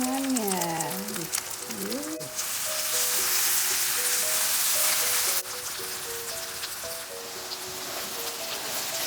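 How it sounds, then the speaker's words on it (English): Spring onions sizzle in a pan of Mumbai dhaba-style keema curry, a bright crackling fry that swells loudly midway, with a tonal whine and brief stirring sounds near the start, close up. "Then you put the spring onions."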